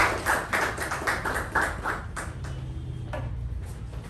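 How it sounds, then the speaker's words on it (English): A small audience at a Toastmasters meeting gives a short burst of clapping to welcome the next speaker, a few scattered claps fading within seconds. "with the thunderous applause"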